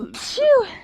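A single sharp sneeze, brief and close, with a breathy burst followed by a tonal vocal tail.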